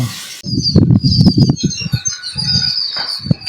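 Pigeon wings flapping in a burst of rapid beats close by during a Tamil home oil-bath scene, with brief higher chirps or coos over the fluttering.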